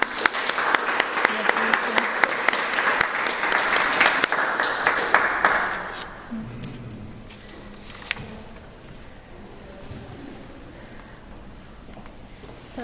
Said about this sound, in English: let's welcome her with an applause.